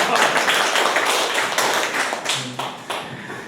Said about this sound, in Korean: 이때 박수 쳐주세요